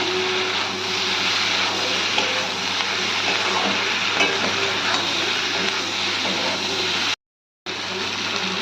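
Paneer frying in a pan for paneer manchurian, a steady close sizzle that fills the whole stretch with broadband crackle, briefly cut out near the end.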